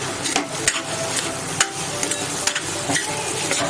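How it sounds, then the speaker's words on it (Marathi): A spoon stirs a pav bhaji vegetable mixture in a hot pan, steady scraping and sloshing strokes over a constant close sizzle, with no speech. "चमच्याने व्यवस्थित असं मिक्स करून घेते"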